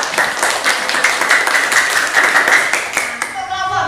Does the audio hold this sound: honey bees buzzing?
no